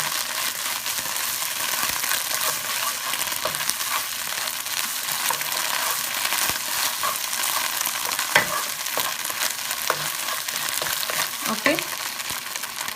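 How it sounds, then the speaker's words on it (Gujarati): Tomato paste fries on a stovetop for a curried black chickpea and potato dish, giving a steady broadband sizzle with occasional spoon scrapes and taps against the pan, continuous and close. "આપણું ટમેટો પેસ્ટ બરાબર ફાઇન રીતે ચૂલા ઉપર પાકી જાય"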